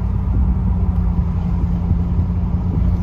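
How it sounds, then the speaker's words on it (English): A Dodge Ram pickup with the 5.7 Hemi V8 drives with its windows down, giving a steady, loud low engine and road rumble mixed with wind buffeting throughout, with no talking. "Yes, the windows are down, so I'm sorry about the wind noise."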